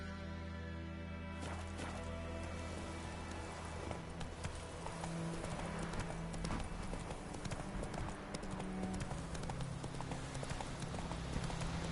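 Geralt's horse Roach gallops in The Witcher 3 video game, hooves clip-clopping in a dense, continuous rhythm that sits under a loud, steady bed of game music and ambience, with no talk.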